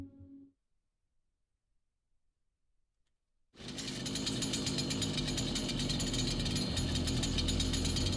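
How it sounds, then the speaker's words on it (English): A chainsaw in DOOM (2016) on an Xbox Series X starts abruptly after a few seconds of silence, then roars loud and continuous with a dense, buzzing drone to the end. "You still hear the chainsaw."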